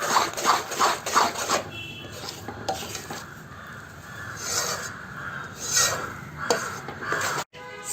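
Spoon scraping and rubbing through gram flour (besan) cooking in ghee in a pot, a steady close scratchy stirring with rhythmic strokes, no talk.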